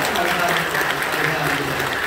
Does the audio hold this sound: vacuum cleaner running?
no